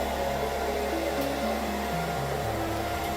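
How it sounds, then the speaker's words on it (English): A hairdryer blows steadily to heat glue for foam crafting, a constant close whir with a slightly shifting pitch and no talk. "using a heat gun or the hairdryer to heat up the glue to the right consistency"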